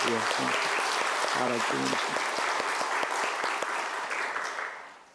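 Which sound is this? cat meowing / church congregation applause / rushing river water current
church congregation applause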